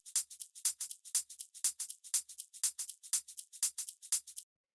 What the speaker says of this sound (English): The next sound that I have here is the shaker / hi-hat combo